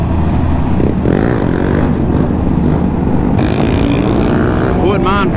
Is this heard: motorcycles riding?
yes